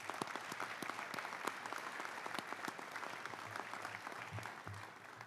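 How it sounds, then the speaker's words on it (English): A room of guests applauds at a high school Hall of Fame induction ceremony, steady dense clapping running the full stretch at a moderate, somewhat distant level, with no talk over it. "Please join with me in giving these individuals and groups a round of applause."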